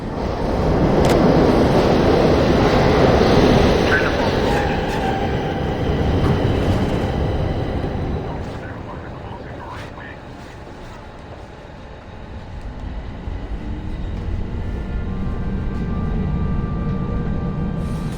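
A New York subway train in the game The Darkness rumbles along as a loud, continuous roar that swells and eases over time, with rattling and faint squeals of the cars and no voices.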